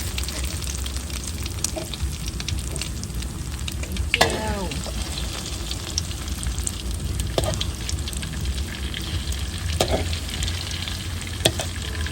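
An omelette with termite mushrooms fries in a pan, giving a steady, close crackling sizzle for the whole stretch. Occasional scrapes and clicks of the utensil sound over it, and a brief voice is heard once.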